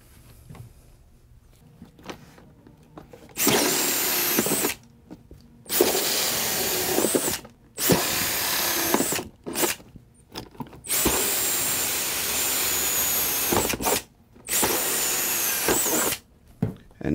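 A power drill bores ventilation holes in the plastic case of an airbrush compressor. It runs loud and whining in about six bursts of one to three seconds each, with short quiet gaps between them and no talking.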